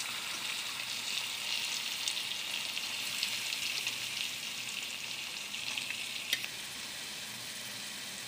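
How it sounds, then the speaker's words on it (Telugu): Boiled cabbage and chana dal frying in hot tempering for a cabbage chana dal curry, a steady close hiss and crackle with one brief sharper pop near the end, no talking. "దాన్ని కూడా మనం వేయించుకోవాలి"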